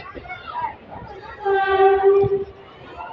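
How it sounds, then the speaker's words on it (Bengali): The Malda Digha Express passes close by with a loud, sustained horn blast of layered tones, amid rumbling rail noise and some background voices. "এখন যে ট্রেনটার সাথে দেখা হচ্ছে মালদা দীঘা এক্সপ্রেস"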